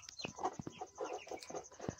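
Farm chickens cluck in short, uneven bursts over about two seconds, with several birds calling close together and no talking.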